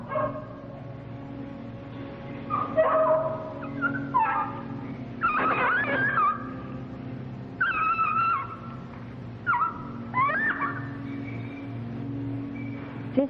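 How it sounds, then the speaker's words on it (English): A distressed beagle in a laboratory whimpers and yelps in repeated high, wavering bursts, sounding close and fairly loud over a steady low hum, with no talk. "This dog is obviously fitting and in distress."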